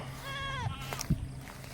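Goats bleat near a farm pen, a wavering nasal cry lasting about half a second, followed by a few short thumps and scuffles against a steady low hum.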